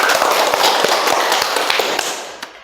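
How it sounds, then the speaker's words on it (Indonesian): A group of people claps together in a dense, even burst of applause that stays loud, then thins and fades out at the end, with no talk over it. "Tepuk tangan untuk kita semua"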